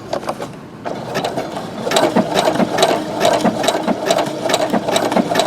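A Brother SE625 sewing machine stitches a coiled rope bowl, its needle mechanism whirring in steady rapid pulses that speed up after a brief pause near the start, loud and close with no talking.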